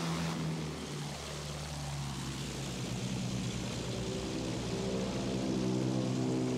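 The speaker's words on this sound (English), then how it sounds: "Plane! You see it?" A propeller airplane engine in Battlefield 1 drones loudly and steadily, its pitch shifting slightly as it passes, with no voices over it.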